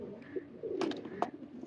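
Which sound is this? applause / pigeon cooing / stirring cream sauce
pigeon cooing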